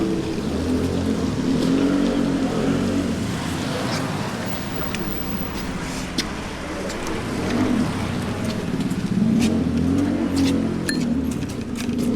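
A scooter engine droning and revving up and down over steady street traffic noise in Brussels, fairly loud and continuous, with a few sharp clicks.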